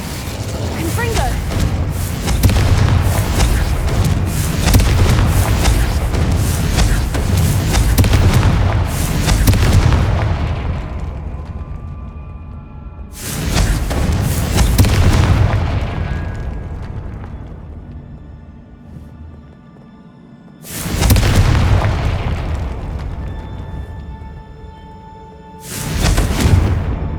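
Fiery spell blasts from the Confringo curse in the Hogwarts Legacy video game boom in repeated heavy bursts, each a loud rumbling explosion that decays before the next, with a spoken incantation mixed among them.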